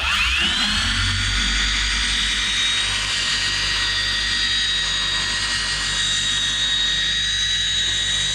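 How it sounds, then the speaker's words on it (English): A dual action polisher runs at speed 3 on car paint, a loud, steady high-pitched whine with a rising tone as it spins up, then holding evenly close by without talk. "Speed 3 on my dual action machine."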